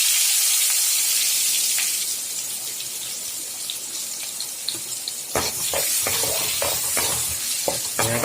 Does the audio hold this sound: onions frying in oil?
yes